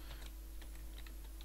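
Quick typing on a computer keyboard while working in an Excel spreadsheet, a close, rapid run of light key clicks over a steady low hum.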